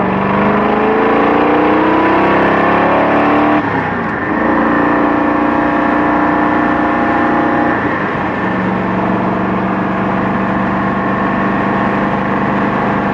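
A car engine in second gear accelerates toward about 3,000 rpm, its rising whine climbing steadily, easing briefly as revs settle, then pulling again in a loud, sustained drone with no talk.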